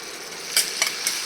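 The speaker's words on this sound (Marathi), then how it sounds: "डांगराच्या भाजीला जिरा आणि मोहरीची फोडणी देऊन घेते" Cumin and mustard seeds crackle in hot oil for a tempering, a steady close sizzle broken by three sharp pops spaced a quarter-second apart.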